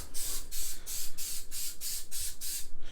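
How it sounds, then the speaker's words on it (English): Adhesive spray from a can misted onto foam in about eight quick, evenly spaced hissing bursts, close and fairly loud, with no talking. "So having this type of spray, definitely I feel will be a lot better."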